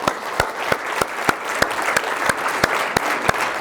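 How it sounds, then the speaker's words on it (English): Audience clapping in sustained applause at a live consciousness talk event, dense and steady throughout with sharp individual claps standing out near the microphone. "join me in giving them a big round of applause for this fantastic event"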